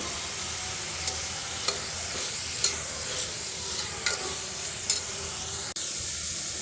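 Onions and curry leaves sizzle steadily in a hot pan, with a few sharp scrapes of a spoon stirring at intervals; no voices.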